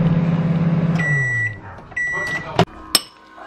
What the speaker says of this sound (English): then put it in the microwave as God intended for cereal